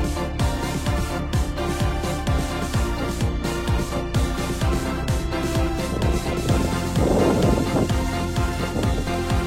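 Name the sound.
thunderstorm with gusting wind, hail and heavy rain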